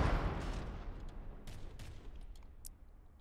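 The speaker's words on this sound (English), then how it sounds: "Another one of those cram mortars coming scaringly close" Mortar fire in a Robocraft rumble battle opens with a heavy close blast, then a long rumbling decay. Sharper distant bangs and crackles of explosions follow, all with no talking.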